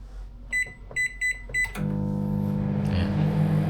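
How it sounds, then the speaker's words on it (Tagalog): A kitchen microwave oven set to reheat food for 90 seconds gives four short, evenly spaced beeps, then starts up with a steady, loud hum and rattle that continues to the end. "Isasalang natin siya sa microwave"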